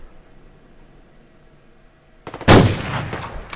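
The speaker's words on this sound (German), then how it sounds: "Schöner Weitschuss. Das Gewehr ist total überstark." A long-range rifle shot in the video game Survarium cracks out loudly after a quiet stretch, a single sharp blast with a short rumbling tail.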